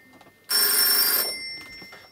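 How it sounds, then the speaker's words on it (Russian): A telephone bell rings loudly and close in a single burst of about three-quarters of a second, then its tone fades away over a quiet room. "Телефон."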